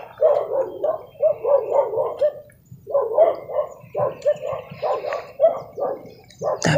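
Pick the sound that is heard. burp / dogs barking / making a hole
dogs barking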